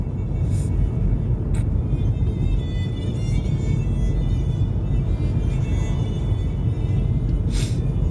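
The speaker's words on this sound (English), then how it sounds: "Don't know where this truck's going." A truck rolls along a road near the M876 at Airth, Falkirk, Scotland, giving a steady low rumble that stays loud and constant, with a few brief higher hisses or clicks over it.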